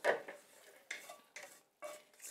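Food being moved into a mixing bowl in a home kitchen during preparation of Lao dishes, heard as four separate scraping clinks of utensil against bowl, close and moderately loud, with no speech.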